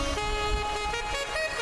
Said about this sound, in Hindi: ये अभी भी हॉर्न कर रहा है ना, बार बार हॉर्न कर रहा है